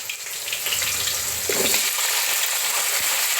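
Tomatoes fry with black pepper, ginger, garlic and coconut in a pan for Punjabi-style rajma, a steady broadband sizzle with one brief scraping stir midway.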